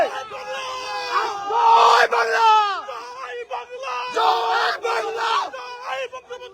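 Protest crowd chanting political slogans against Hasina's Awami League outside, loud rhythmic shouted call-and-response bursts with yelling voices rising and falling.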